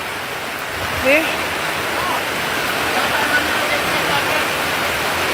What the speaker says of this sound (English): Rain a fall.